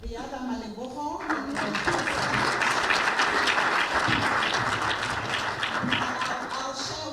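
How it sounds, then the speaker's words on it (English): A crowd applauds with dense, steady clapping that swells and holds, while a voice speaks briefly before it starts. "a round of applause for the other Maleboko"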